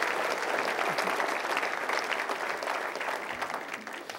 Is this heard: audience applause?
yes